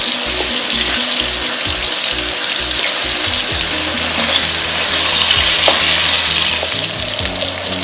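Tuna fish pieces shallow-frying lightly in a pan: a loud, steady sizzle that lasts throughout, with a low hum and faint knocks underneath as the pieces are turned.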